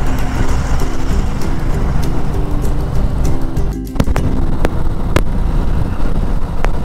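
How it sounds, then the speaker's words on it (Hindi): A Kawasaki Ninja motorcycle speeds along a road near a river, its engine droning steadily under heavy wind roar, with a few sharp clicks and thumps breaking through. "अभी बाइक काफ़ी भगा रहा हूँ मैं"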